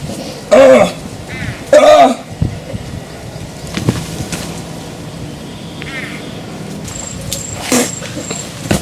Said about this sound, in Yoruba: ikọ́